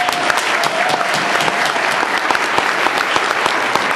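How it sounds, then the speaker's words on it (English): A crowd at a leadership gathering breaks into loud, sustained applause, a dense and even roar of many hands clapping close by for the full stretch. "we'll give you guys a round of applause right now as well"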